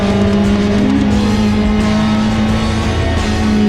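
A Ford Cortina historic racing car at a circuit race meeting, its engine droning loud and steady as it races, with other cars nearby and no talk.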